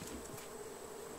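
Bees buzzing in the Raft video game, a steady, even drone that holds near and fairly loud through the whole moment with no voices over it.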